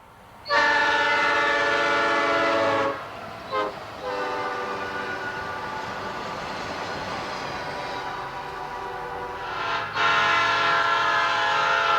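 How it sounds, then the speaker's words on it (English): A short Norfolk Southern Triple Crown freight train with seven trailers rolls past close by, its horn sounding loud in long blasts at the start and again near the end, with steady rumble and rail noise between. "recording this short Triple Crown train with only 7 trailers in tow"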